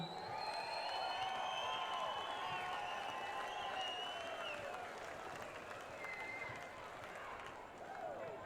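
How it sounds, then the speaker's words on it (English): A crowd at a men's Premier League grand final presentation in Darwin gives a round of applause for the Southern Districts coach. The clapping and cheering sound faint and distant, and voices are heard over them. "We please, big round of applause for coach of the Southern Districts, Shannon Ruska."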